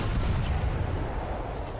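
Video game gunfire crackles in a dense, loud burst, heavy rapid shots rumbling continuously for a couple of seconds with no voices over it.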